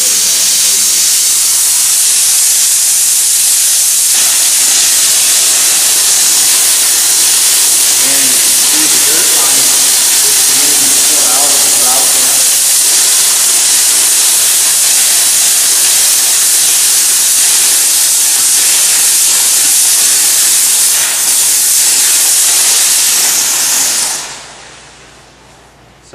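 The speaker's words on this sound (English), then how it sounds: "I just need to keep that agitation motion going as I'm applying the steam" A steam cleaner works on tile and grout with a loud, continuous close hiss that holds for over twenty seconds while the tool is scrubbed back and forth, then cuts off abruptly at the end.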